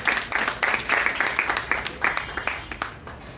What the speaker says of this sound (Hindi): मैं चाहता हूं सदन से जोरदार तालियों से इन सभी का स्वागत करें